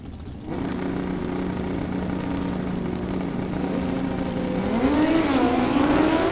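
Sportsman drag-racing motorcycles roar at the strip. A loud, sustained engine drone climbs sharply in pitch near the end as the revs build.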